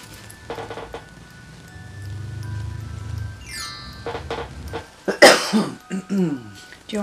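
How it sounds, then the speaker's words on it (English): A woman coughs and clears her throat in short bursts while sitting for Halloween skeleton nail art, the coughs spread across the moment amid light clinks and handling sounds. "My cough is gonna start."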